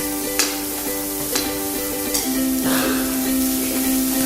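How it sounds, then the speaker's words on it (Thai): Mixed fried rice with purple cabbage stir-fried in a pan, a steady sizzle with rhythmic scraping taps about once a second over a constant humming tone. "แล้วก็ผัดคลุกเคล้าให้เข้ากัน"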